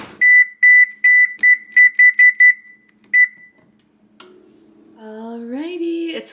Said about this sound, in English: I'm gonna pop this in the oven at 350 for 1 hour